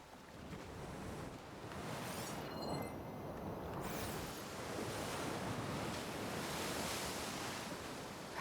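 Steady ocean surf and wind noise roll continuously while boating in Horizon Forbidden West: Burning Shores. Water rushes loudly throughout with gusty swells and no pauses.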